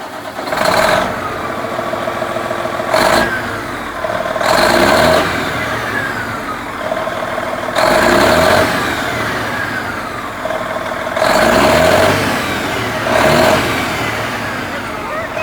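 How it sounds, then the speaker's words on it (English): A Freightliner Classic truck engine fitted with a new muffler revs loudly and up close in several repeated bursts, dropping back to a steady idle between each rise. "Y'all, listen to her go. She is a happy Freightliner. She got her a new muffler today."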